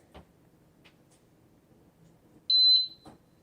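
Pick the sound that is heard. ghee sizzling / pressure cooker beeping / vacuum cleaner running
pressure cooker beeping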